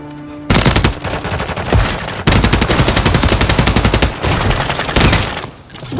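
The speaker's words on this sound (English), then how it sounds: "Taking effective fire. Taking fire." Rapid automatic gunfire from a Call of Duty Modern Warfare 3 match, loud and close, in sustained bursts broken by brief pauses, with no talk over it.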